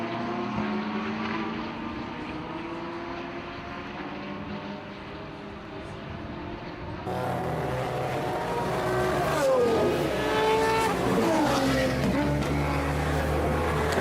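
High-revving sports car engines with quad exhausts roar past on a racetrack, rising and falling in pitch as several cars accelerate and shift gears nearby, growing louder in the second half.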